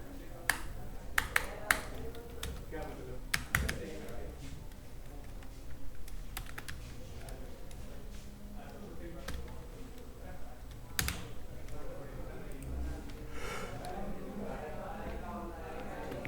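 Someone types JavaScript code on a computer keyboard in uneven bursts of clicks and clacks, with a few sharper key hits along the way, while a person keeps talking over it.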